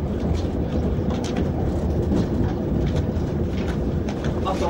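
A VT95 railbus runs on the line between Büschfeld, Primsweiler and Dillingen in the Saar, heard from inside as a steady loud rumble with faint rail clicks throughout.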